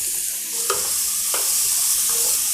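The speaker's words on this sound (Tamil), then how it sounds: "சரி 2 தக்காளி பொடியாக நறுக்கிருக்கே போடுறேன்." Finely chopped tomatoes tossed into a hot pan with sliced onions and cloves while cooking palak paneer, a steady bright sizzle with a few stirring scrapes over it.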